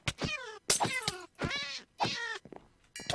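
A cat in modded Minecraft meows loudly several times in a row, each call rising and falling with short gaps between, close and clear with no talking over it.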